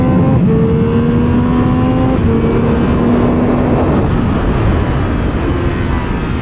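A 2022 Triumph Speed Triple 1200 RR on a race track, its engine loud and steady throughout with rising and falling harmonic tones as it pulls through gears, the auto blipper handling shifts without pause.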